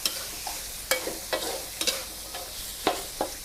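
Fish is stir-fried with pea eggplants in a spicy Thai dish, with about seven quick spatula scrapes ringing out at an uneven pace over a soft sizzle close by.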